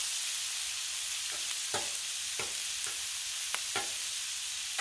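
Shrimp searing on a Blackstone flat-top griddle, a steady close sizzle with faint frying crackle and a few brief scraping or stirring clicks, no talking.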